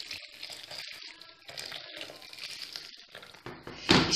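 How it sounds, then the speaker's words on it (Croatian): Boiling water is poured over nettles in a kitchen pot, a steady hissing splash that runs on and surges louder at the end, close and alone without talk. "Prelit ću je vrelom vodom."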